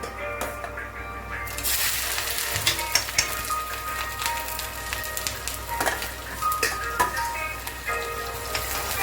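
Chopped ginger and green chili dropped into hot oil, sizzling and crackling steadily at close range, with scattered spatter pops and clicks throughout.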